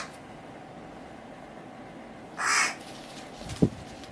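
A young crow lets out a single harsh, raspy caw close by in a quiet room, followed shortly by a brief low thump.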